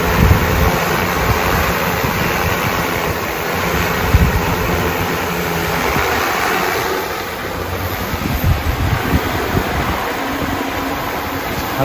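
An EFT G416-frame agricultural spray drone hovers and flies in strong wind outdoors, a steady loud motor and propeller drone heavily buffeted by gusting wind noise throughout, with no talking.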